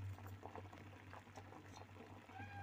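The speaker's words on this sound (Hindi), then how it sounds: "देखिए अब इसमें उबाल आना शुरू हो गया है। अब ये उबल रहे हैं" Mutton and urad lentils simmer at a rolling boil in a cooking pot, giving a steady, faint bubbling hiss with a low hum underneath.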